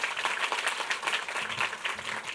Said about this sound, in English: And that deserves some applause.